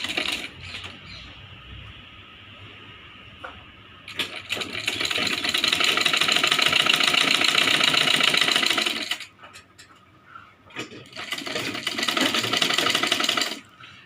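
A sewing machine stitches blouse fabric in two steady bursts of rapid whirring, separated by quiet pauses and short handling noises.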